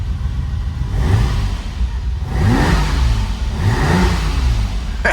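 A Ferrari engine revs in its first start after a project rebuild, three rising sweeps of revving over a steady idling rumble, close and loud, with no talk.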